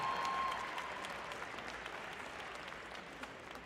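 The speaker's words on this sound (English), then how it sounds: "Give them a huge round of applause." Spectators on the shooting line at a large archery tournament give women archers a round of applause, a soft and distant patter of clapping that tapers off gradually.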